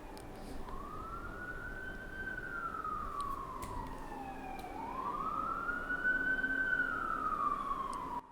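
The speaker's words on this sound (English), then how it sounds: "Lord have mercy, that's a long siren." A long wailing siren rises and falls in two slow sweeps, steady and moderately distant over a constant background rumble.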